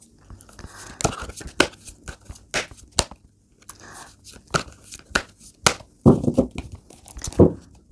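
Tarot cards are pulled from a deck and shuffled, giving a string of crisp papery snaps and rustles in an uneven rhythm, close and fairly loud, with brief soft speech between them.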